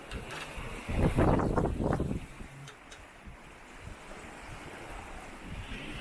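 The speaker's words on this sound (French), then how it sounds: "Mais ça souffle. Et ça a levé, bien sûr, le clapot" Wind and choppy Mediterranean waves wash around a solo sailboat, with a loud burst of surging water near the start, then steady wind and softer chop for the rest.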